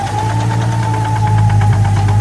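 A Toyota Supra gasoline engine with improper timing knocks hard and steadily, a fast, regular metallic pulsing over a loud droning hum, close and continuous.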